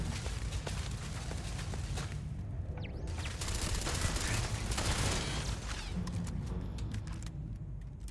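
Turret gunfire in the sci-fi video game Starfield rattles in a dense, continuous volley of sharp shots over steady broadband game noise, loud throughout the whole stretch.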